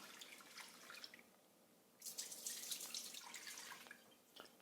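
Water poured off rinsed white rice splashes and trickles into a sink, a soft drip first and then a fuller, steady pour for a couple of seconds, close and moderately quiet, with no talking.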